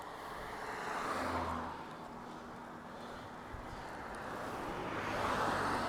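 A car drives along a road toward the Burundi border with a steady low engine and road rumble, heard from inside as wind and tire noise rise and fall gently, with no talk.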